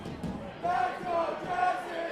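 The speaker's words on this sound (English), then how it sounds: "The crowd getting behind their hometown champ." A wrestling event crowd roars and cheers for their hometown champion, a steady, dense wash of voices that swells partway through, with a voice talking over it.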